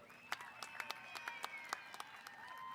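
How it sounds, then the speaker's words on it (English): A graduation ceremony audience claps in a thin, scattered way, with sharp individual claps spread out and fairly distant at low volume under a faint sustained tone. "Let's give them a nice round of applause, please."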